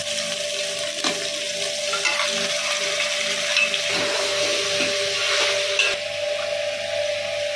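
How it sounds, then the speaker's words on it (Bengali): Electric water pump running nearby, a steady droning motor hum throughout, layered with hissing sizzle from a pot of mutton biryani cooking; no voices. "তো পাম্প চলছে, একটু ইগনোর করো"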